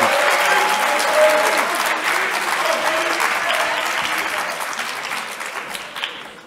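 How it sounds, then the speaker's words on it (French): An audience at a French business-school public speaking contest applauds steadily, a dense, sustained clapping that slowly tapers off, with a few voices faintly mixed in. "On va applaudir Kevin."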